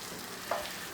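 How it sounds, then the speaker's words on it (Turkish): Butter melts and sizzles in a rice pot as a mushroom risotto begins, a soft steady frying crackle with one brief sharper sizzle midway, no voices. "Tereyağımız erimeye başladı."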